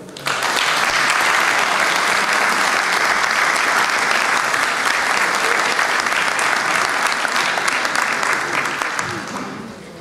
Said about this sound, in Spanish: Un aplauso maravilloso para ella.